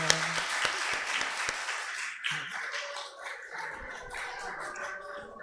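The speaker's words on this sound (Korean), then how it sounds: "다시 한번 큰 박수로 축복해 주시기 바랍니다." A church congregation at an all-generations worship service breaks into applause, starting with close, sharp individual claps and settling into a steadier, softer round of clapping.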